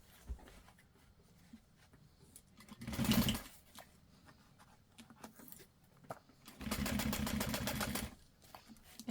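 Sewing machine stitching along the edge of backpack fabric, two bursts of steady rapid stitching, the second longer, with quiet handling between.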